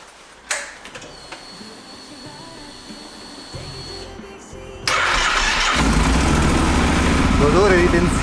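A motorcycle engine cranks over and fires up from cold, settling into a loud, steady idle that fills the rest of the clip after a quiet start with a few small clunks.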